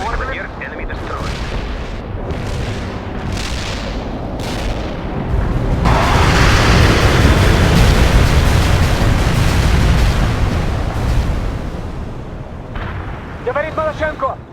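An artillery barrage in World in Conflict pounds the battlefield, opening with a rapid series of heavy booming impacts before merging into a dense, roaring wall of explosions that gradually fades, with radio voices talking over it near the end.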